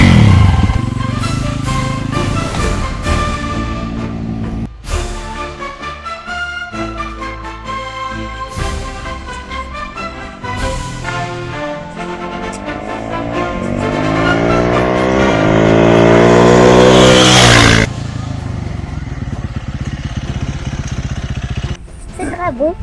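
Motorcycle ride at Talaky, the engine rising and falling through revs and gear changes, with loud sweeping acceleration building toward a sustained peak before easing off, close and dominant throughout.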